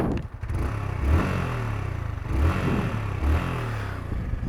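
Exhaust of a Yamaha R15M V4 carbon-edition motorcycle with about 10,000 km ridden, a close, low throbbing idle that rises into short revs three times.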